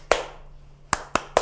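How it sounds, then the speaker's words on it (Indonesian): Hands clap sharply four times in a demonstration, with the right hand striking the back of the left hand: one clap, a pause, then three quick claps in a row, close and clear with no talking. "Dengan tepuk tangan."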